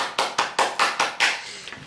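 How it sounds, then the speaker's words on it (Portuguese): One person clapping hands in a slow, steady rhythm, about six sharp, close claps that trail off into softer ones at the end, with no talk over them. "Vou até aplaudir de pé."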